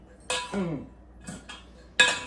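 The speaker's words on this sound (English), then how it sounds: "I am going to give this a quick stir" Tomato salad being stirred in a bowl, a few brief clinks and scrapes of a utensil against the dish, three or four separate close touches with short pauses between.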